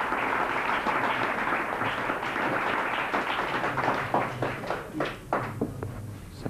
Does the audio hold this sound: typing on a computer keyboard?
no